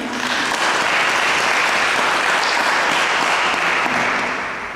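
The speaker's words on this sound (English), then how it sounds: "welcome them with a round of applause" Audience applause, a dense and even wash of clapping that swells in, holds steady for several seconds, then tapers off, with no voices over it.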